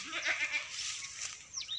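Goats bleat in a village, a few wavering calls rising and falling across the stretch, moderately near and alone with no talk over them.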